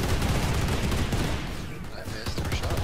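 Dense rapid gunfire in the online shooter PlanetSide 2, continuous overlapping bursts that are loud and close, with a voice talking over the shooting.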